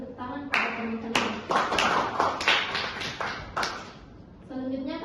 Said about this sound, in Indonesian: Silakan beri tepuk tangan pada teman-teman.